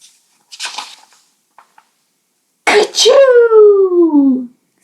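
A voice acts out a sneeze: a sharp breathy burst, then a long drawn-out falling "choo" wail. It is loud and close, following faint earlier rustling.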